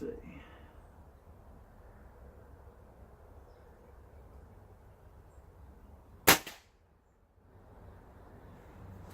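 .22 Gamo Swarm Maxxim air rifle firing a pellet: one sharp, loud crack stands out partway through over a low, steady background rumble, followed by a brief hush.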